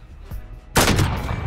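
Gunfire in a Call of Duty search-and-destroy match: a sudden loud burst of shots breaks in after a quieter stretch and rolls on densely to the end, with faint game noise before it.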